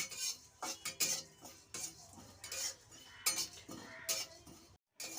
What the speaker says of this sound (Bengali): এক চামচি জিরে একটা শুকনো লঙ্কা চার পাঁচটা গোলমরিচের দানা এগুলো ভালো করে ভেজে নিচ্ছি